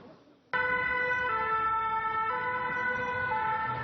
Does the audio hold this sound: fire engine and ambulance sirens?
yes